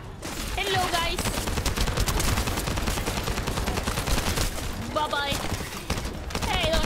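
Dense, continuous automatic gunfire rattles in a shooter looter game, loud and steady throughout, with a voice talking over the shooting.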